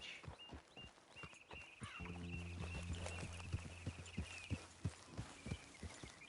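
Horse hooves clip-clop in Red Dead Redemption 2 in a steady walking rhythm, close and clear, with a low ambient hum and faint background tones beneath.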